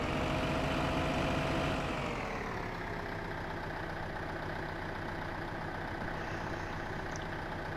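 Tractor engine idling in Farming Simulator 2015, a steady low rumbling drone that settles into an even hum after a brief drop in pitch, close and unbroken with no talking.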